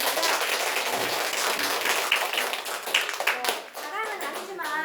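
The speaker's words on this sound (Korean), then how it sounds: "다시 한번 큰 박수 부탁드리고요" An audience applauding after a lecture at an academy's admissions briefing, with brisk clapping running throughout and a voice speaking over it.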